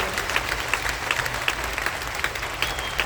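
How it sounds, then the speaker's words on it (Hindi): Applause from a large audience, many women among them, at an academy education program in Bhilwara: steady dense clapping with scattered sharper claps, moderately loud and without speech. "एक बार इनके लिए जोरदार तालियां बजनी चाहिए।"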